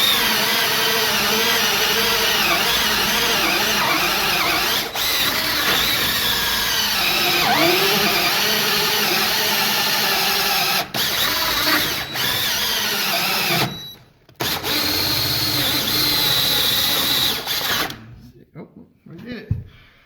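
A power drill bores through a woodworking shop's subfloor, whining loudly and almost continuously with brief drops in pitch under load, then stopping in short gaps near the end.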